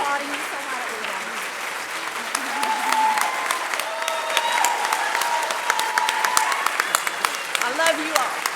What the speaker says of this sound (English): They're all applauding you